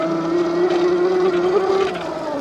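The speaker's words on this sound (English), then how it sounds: "So this is full throttle on sport mode." An electric Tuttio Soleil Lo dirt bike runs at full throttle in sport mode, giving a steady, smooth, fairly quiet motor whine with a gently rising pitch and continuous wind rush, heard close and alone.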